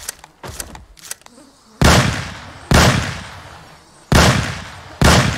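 Gunfire in the zombie survival game Project Zomboid: a few faint clicks, then four loud, sharp shots roughly a second apart, each ringing out and fading before the next.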